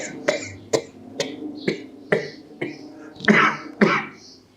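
One person coughs on purpose, producing about nine sharp bursts in a steady rhythm. The coughs are close and fairly loud, and no one speaks.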